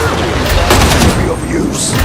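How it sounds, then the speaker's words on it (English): A grenade explodes in a video game with a loud, dense rumbling blast that fills the whole moment, followed by a brief crackle and debris. "Grenade."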